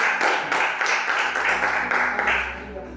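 Church congregation applauding together in a worship service, a dense, steady wash of clapping filling the room, fading slightly at the end.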